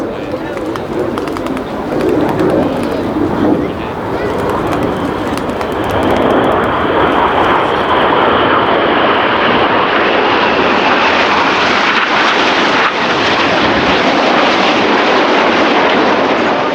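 Red Arrows jets fly a display at the Royal International Air Tattoo 2024 as the synchro pair runs in at high speed, a loud, sustained roar building and swelling under a commentator's voice.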